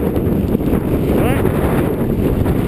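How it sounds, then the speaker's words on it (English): Wind blowing over Storm Peak at Steamboat during a white-out, loud buffeting rumble against the microphone, gusting continuously for a few seconds. "can probably hear the wind."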